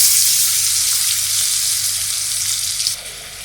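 Onions and a 7Up marinade hiss and sizzle steadily in hot oil in a pan while Egyptian liver is being cooked, a loud, continuous broadband frying sound that eases slightly near the end, with no voices.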